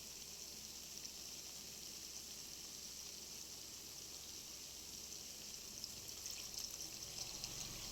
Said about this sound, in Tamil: புளிக்கரைசல் எடுத்து வச்சுருக்கேன், அதை இதில் சேர்த்துக்கலாம்